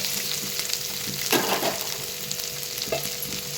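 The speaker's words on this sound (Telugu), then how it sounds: "తరిగిన కాకరకాయ దెబ్బల్ని వేయాలండి. ఇందులో వేసి బాగా కలిపెట్టాలి." Chopped bitter gourd frying in a pan, with continuous close sizzling broken by louder scraping bursts as the pieces are stirred, no talking.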